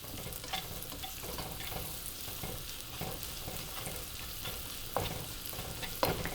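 Carrots stir-frying with garlic and ginger for vegetable fried rice give a steady close sizzle, with a spatula scraping and clicking through it and a couple of sharper knocks near the end. No one talks.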